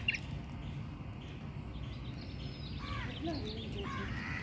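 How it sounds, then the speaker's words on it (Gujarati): Birds call in the backyard of a Kochi backwater resort, with faint crow-like caws and chirps over a soft outdoor hum. "બધો પક્ષીઓનો અવાજ અને આવું બધું સાંભળવાની મજા આવે"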